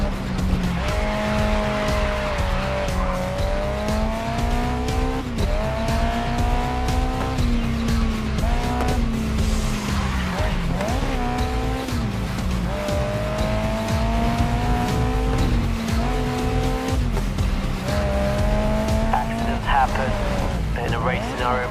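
A race car in Grid Legends, its engine droning loud and steady through gear changes and revving, with tires squealing at corners and a voice talking over the top throughout.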